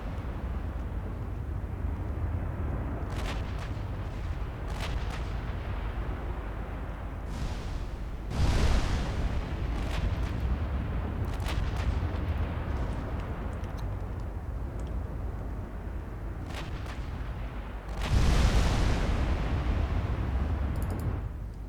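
Heavy naval guns firing in Ultimate Admiral Dreadnoughts with German 1910-era warships: two deep booming salvos far apart, plus scattered sharper distant shots over a constant low rumble of sea and engines.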